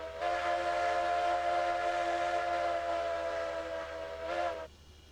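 Heisler locomotive steam whistle from the Railroads Online game, a single long chord-like blast held steady for over four seconds, loud and close, then cutting off abruptly into quiet.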